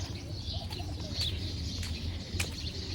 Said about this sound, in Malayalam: കിളികളുടെ സൗണ്ടൊക്കെ കേൾക്കുന്നുണ്ട് നമുക്ക്